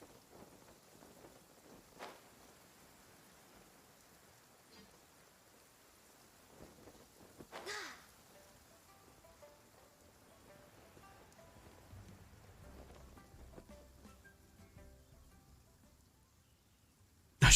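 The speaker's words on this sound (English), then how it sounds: "I love listening to the rain from the courtyard." Soft rain falls steadily in a courtyard in Genshin Impact, with distant thunder rolling and one sharper crack midway, then patter on surfaces near the end.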